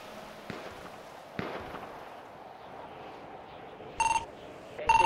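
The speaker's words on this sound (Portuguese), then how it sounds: "aonde que é esse tiro aí?" Sharp gunshot cracks ring out from a game, a few single shots spaced apart, followed by brief electronic beeping tones.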